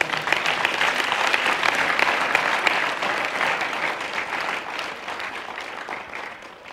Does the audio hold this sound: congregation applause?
yes